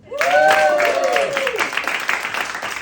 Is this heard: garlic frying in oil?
no